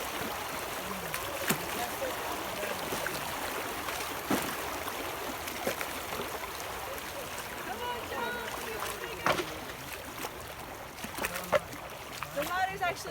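Shallow creek water splashing and trickling as hikers wade barefoot across on the John Muir Trail, with scattered sharp splashes over a steady stream babble and voices talking faintly.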